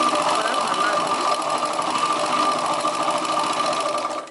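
A sewing machine runs steadily while stitching along the edge of a chudidar top, a continuous mechanical whir lasting the whole stretch before easing off at the very end.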